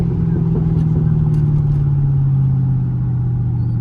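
A Camaro SS with an LS3 V8 and open long-tube headers downshifting on the road, with a deep, loud, steady engine drone that dips slightly in pitch inside the cabin.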